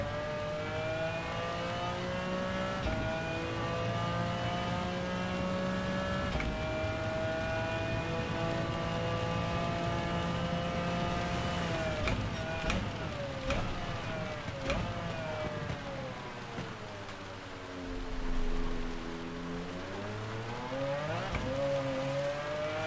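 Race car engine in Gran Turismo 7, a sustained high revving drone with layered harmonics whose pitch rises and falls through gear changes and sweeping throttle, loud and continuous with no talk.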